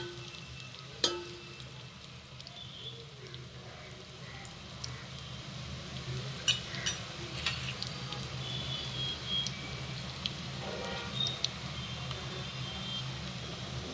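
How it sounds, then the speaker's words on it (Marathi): Onions sizzle and fry in a pan with a soft steady hiss, punctuated by occasional scraping and clinks of stirring. "चांगला कांदा हलवून लाल भाजून घेऊ"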